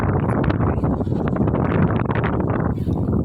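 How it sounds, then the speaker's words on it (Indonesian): Strong sea wind gusts straight into a phone microphone on a loose tripod, a loud, constant roaring buffet with no letup and no voice over it. "walaupun memang campur dengan suara angin, hembusan angin yang cukup kencang, kayak air laut lagi, angin laut"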